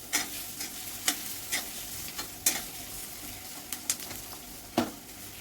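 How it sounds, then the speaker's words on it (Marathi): Two large finely chopped onions sautéing in butter and oil in a pan for pav bhaji, giving a constant soft sizzle broken by repeated scraping stirs of a spoon, close and fairly quiet. "त्यामध्ये कांदा, इथं आपण 2 मोठे कांदे बारीक चिरून घेतले. आता हे छान आपण परतून घेऊ."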